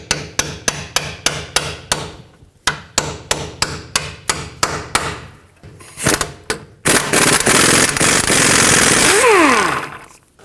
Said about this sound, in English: you're going to have to tap the socket on with a hammer.